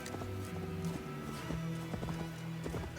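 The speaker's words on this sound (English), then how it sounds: "I'm on a horse now, you can't catch me." Horse hooves clip-clopping in Assassin's Creed Valhalla, a quick rhythmic beat of hoofbeats over a game soundtrack with sustained musical tones, moderately loud and steady.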